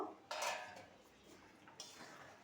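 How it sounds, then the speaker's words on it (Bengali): A pot lid lifts off a simmering fish curry with winter vegetables and potatoes, giving a short metallic scrape and clatter followed by a second lighter clink, quiet and close. "ঢাকনাটা খুলে দেখে নেব"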